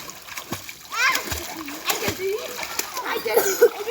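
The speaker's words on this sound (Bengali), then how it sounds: "দুটো বোতল নিয়ে সাঁতার ট্রেনিং চলতেছে" A small boy learning to swim with two bottles, splashing in the water in quick bursts close by, while a voice chatters over the splashes.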